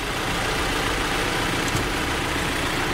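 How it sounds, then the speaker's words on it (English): A car fitted with a flex fuel kit idles steadily, a constant low engine rumble with broadband hum running evenly throughout, close and moderately loud with no talk. "car since it's been idling for a little bit now."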